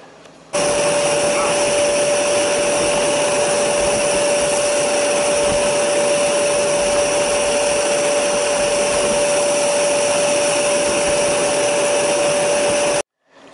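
A Zero G floating vacuum cleaner running on bare floor with its nozzle: a loud, steady whine switches on, holds evenly for about twelve seconds, then cuts off.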